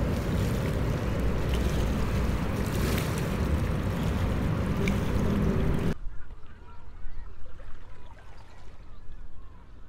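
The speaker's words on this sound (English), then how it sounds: "While the clippers do their thing and race on past" Clipper boats race past on a river, their engines and wake making a loud rushing roar that cuts off abruptly. Quieter lapping water and a faint background murmur follow.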